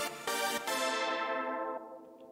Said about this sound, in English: Regular minor scale will sound something like this.